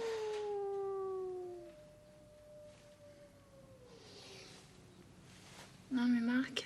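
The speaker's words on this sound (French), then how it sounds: "Non mais Marc, il y a vraiment un chien dans l'immeuble" Dog howling somewhere inside an apartment building in a cartoon-style sketch, long sliding wails that fall and fade, followed by a louder, shorter howl near the end.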